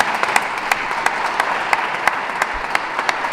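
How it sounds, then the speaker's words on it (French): A crowd at a Parisian memorial tribute and thanksgiving service applauds the AMDC, an even, moderately loud wash of many hands clapping, with a few crisp claps popping out above the steady patter. "Je vous prie d'applaudir aussi pour l'AMDC parce que c'était pas facile du tout."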